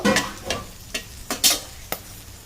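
Four cloves and a cinnamon stick stirred in hot oil in a kadai, a soft continuous sizzle punctuated by four or five evenly spaced metal scrapes of the spatula, close up.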